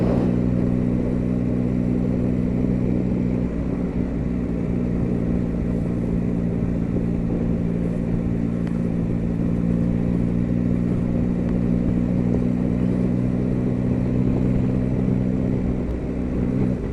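A Yamaha Tracer 9 motorcycle with a slip-and-assist clutch pulls steadily in fourth gear from about 28 mph, its engine drone loud and continuous throughout under wind noise.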